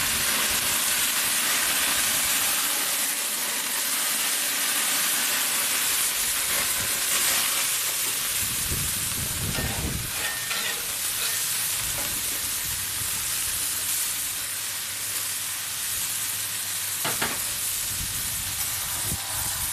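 Brats and hamburgers sizzle on a grill with a loud, continuous frying hiss, steady throughout with occasional pops and crackles.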